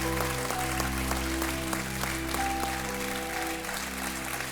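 Studio audience applause rings out on the Kaun Banega Crorepati TV quiz show, a steady, full wash of clapping layered over sustained background music with no talk.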